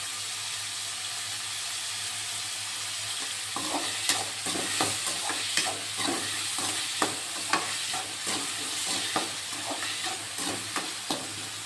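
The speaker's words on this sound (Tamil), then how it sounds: "இப்போ பார்த்தீங்கன்னா வெங்காயம் நல்லா வதங்கி வந்துச்சு" Onions sauté in a pan with a steady background sizzle, and a utensil stirs and scrapes them in a run of rhythmic clinks that begins partway through, close and moderately loud, with no talking.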